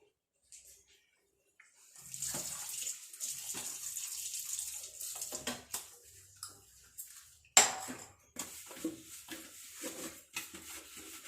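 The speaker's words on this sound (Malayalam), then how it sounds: "ആദ്യമേ കുറച്ച് പാത്രം കഴുകിയിട്ട് കുക്കർ കഴുകിയെടുക്കണം." Dishes and a pressure cooker washed in a kitchen sink under running water, with repeated clinks and clatters of metal utensils, splashing in bursts and one sharp bang, no talk.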